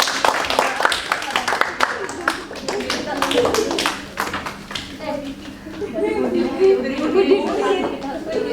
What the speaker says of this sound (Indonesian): tepuk tangan buat Nanti